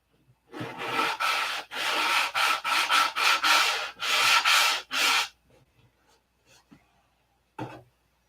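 Sandpaper rubbed by hand over wood fillets, a run of loud close scratchy strokes, some long and some short, in an uneven rhythm, then a few faint scrapes and one last brief stroke.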